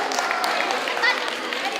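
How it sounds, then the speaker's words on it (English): An audience at a school DARE graduation gives a brief round of applause, a dense patter of clapping mixed with voices talking over it. "nice round of applause"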